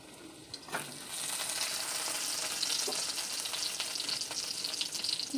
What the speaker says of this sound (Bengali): রসুনটা একটু ভাজা ভাজা জাস্ট একটু হলেই আমি ডালটা এর মধ্যে দিয়ে দেবো